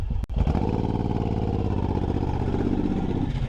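A Suzuki Boulevard M109R cruiser motorcycle is ridden at steady speed, its big V-twin engine droning loud and close with a throbbing low rumble, after a short sharp knock at the start and no talk over it.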